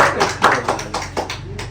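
Several people clap hands together at a family Eid gathering in Rangpur, a short run of uneven close claps at a lively pace.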